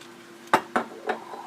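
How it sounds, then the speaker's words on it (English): A utensil mashes miso into about a tablespoon of vinegar to make a paste, knocking against the bowl in three distinct sharp clinks with quiet scraping between them, close and alone. "all you do is you just sort of mash the miso around in the vinegar because you're going to make a paste"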